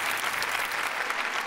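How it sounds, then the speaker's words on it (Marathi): Audience applause at a Marathi comedy show, a dense steady clapping that fills the whole moment from start to end with no voices over it. "जोरदार टाळ्या सगळ्यांसाठी."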